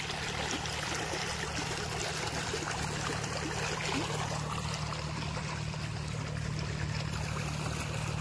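High water rushes under a bridge and nearly reaches the deck, making a continuous close, loud roar with no voices.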